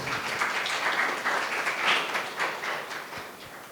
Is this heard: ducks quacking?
no